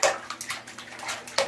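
A dog paddles and splashes in water, making a quick run of close, uneven splashes and slaps with no one speaking.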